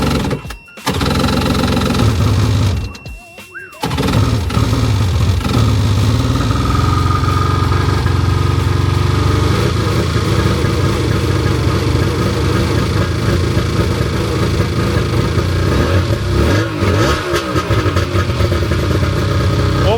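A cheap jet ski engine coughs and catches after a couple of tries, then runs loudly and steadily, revving and roaring up close.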